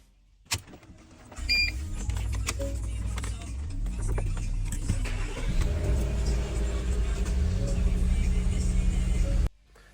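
A 2011 Porsche Cayenne 958 engine cranks and fires up after its gateway module was replaced, then idles steadily close by with a faint whirring, while voices speak over it.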